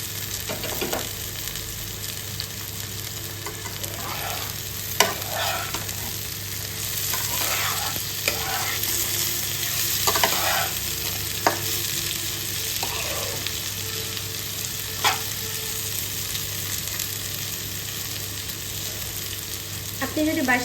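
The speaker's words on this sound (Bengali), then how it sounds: "এবারে ঢাকনাটা সরিয়ে আবারও একটু নাড়াচাড়া করে দেব।" A potato and pointed gourd curry sizzles under a loud, even hiss while a spatula scrapes and knocks around the pan in uneven bursts, again and again over about twenty seconds. No one speaks.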